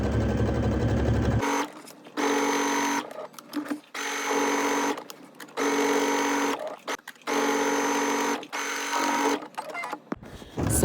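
A sewing machine top-stitches a tennis bag's lining to its facing, whirring close and loud in a run of short bursts of a second or so, separated by brief pauses.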